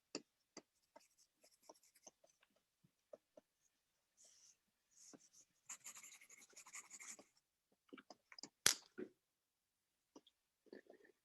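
Pencil scratching and rubbing on paper while drawing a wild-haired cartoon character, with short soft scribble strokes, a denser stretch of shading in the middle, and a brief louder rub near the end.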